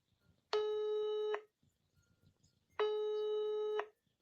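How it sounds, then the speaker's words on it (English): A telephone rings twice in long, loud electronic bursts, each about a second long, separated by a short pause with faint background sound between them. "Tom's phone rang."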